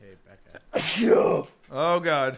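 A sharp, loud sneeze bursts out between short bits of nearby talk.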